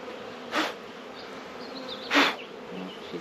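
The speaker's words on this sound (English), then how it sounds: "I've got a mad bee on my face." A honeybee buzzes right against a beekeeper's face during a February hive check, two loud close passes of droning wingbeat rising out of a quieter background hum.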